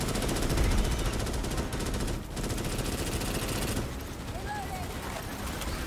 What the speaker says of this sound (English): Constant bullets.